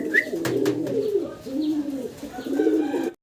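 Pigeons kept in coops coo up close and loud, with several rolling throaty calls repeating in quick succession.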